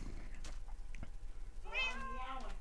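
A Minecraft cat meows in a short run of clear, rising and falling cries near the end, close and fairly loud above quiet game background.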